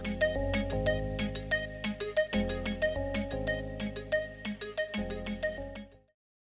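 Phone ringtone playing a repeated melodic electronic tune, fairly faint and alone, cycling through its phrase several times before cutting off abruptly near the end.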